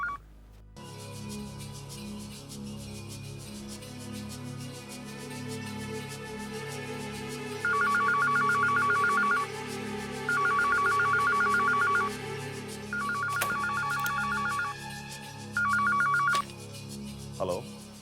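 A telephone rings in repeated electronic bursts, four trilling rings spaced evenly over a background bed of music.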